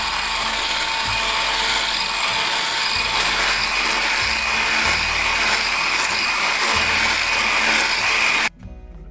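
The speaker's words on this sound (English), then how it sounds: "Now I'm gonna add sugar, and I'm gonna whisk it." Egg yolks and sugar being whisked in a bowl, likely with an electric mixer, giving a loud, steady whirring drone with a rhythmic rattle that cuts off near the end.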